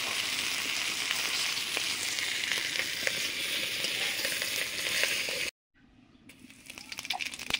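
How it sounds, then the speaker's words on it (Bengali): Cauliflower with katla fish head, whole cumin and dry red chilli fries loudly in oil, a dense crackling sizzle with scraping, cutting out briefly and then rising again. "গোটা জিরে, শুকনো লঙ্কা, কাতলা মাছের মুড়ো দিয়ে ফুলকপি রান্না করছি"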